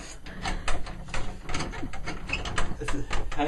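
An old 13th-century door being shut, with a run of loud, close wooden creaks, clunks and rattling latch clicks across a few seconds.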